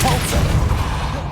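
Depulso knockback spell cast in Hogwarts Legacy on PS5: a short, heavy booming whoosh with a deep thump, loud and close, lasting about a second.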